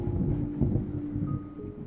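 Stormy sea waves crashing under rumbling thunder, a low, dense, continuous roar at moderate level with no voices.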